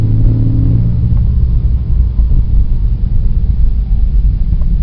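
Porsche 997.1S with a 4.1L engine accelerating under power out of a corner in third gear at low RPM, a loud, steady low rumble that builds gently from the start and stays even throughout.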